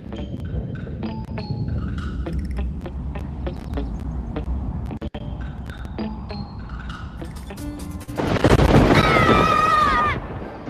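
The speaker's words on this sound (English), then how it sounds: "Welcome to a thunderstorm!" A heavy crack and rumble of thunder swells near the end, loud and close, after a stretch of softer background tones and noise.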